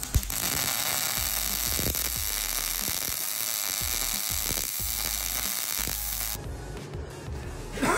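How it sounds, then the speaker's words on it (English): Steady electric buzz from a welder tacking tabs onto a Ford 8.8 axle housing, a dense crackling hum running nearly unbroken for several seconds before a brief change near the end. "once I start to weld this, it's gonna end up wanting to pull itself to each other"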